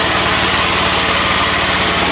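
A small pull-start engine, recently started by rope, idles steadily with a fast, even low-pitched pulsing and a constant rough mechanical roar, loud and close, with no voices.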